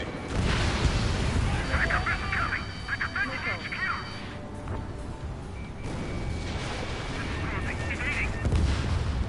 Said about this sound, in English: Missile away.